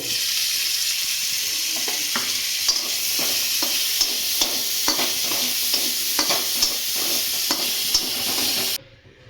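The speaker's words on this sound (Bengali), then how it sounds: "ম্যারিনেশন করে চিংড়ি মাছটা এখন দিয়ে দেবো, ভেজে নেব" Marinated prawns fry in hot oil in a home kitchen pan, giving a steady bright sizzle broken by a run of regular scraping stirs, before the sound cuts off abruptly near the end.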